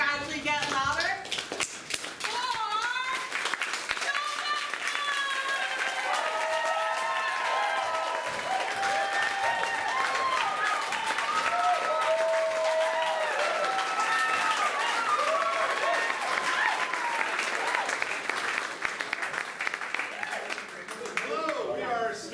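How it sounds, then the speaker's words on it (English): A live audience claps softly at first and builds gradually and continuously over about twenty seconds, steady and dense, while voices and tonal sounds ring out above the clapping. "all we need to get started is a soft clap that we're going to gradually get louder"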